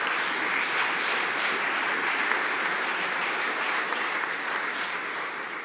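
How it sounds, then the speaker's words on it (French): Steady, dense applause from an audience at a French young entrepreneurs' community event, loud and sustained at an even level for several seconds, with no pauses. "Une dernière applaudissement,"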